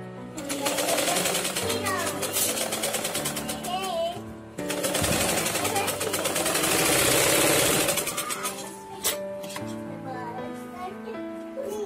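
Sewing machine running in bursts while stitching the shoulder joint of a garment, attaching both sleeves, with a steady mechanical whir and pauses between runs, a voice talking over parts.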